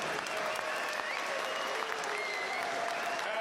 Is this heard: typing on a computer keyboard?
no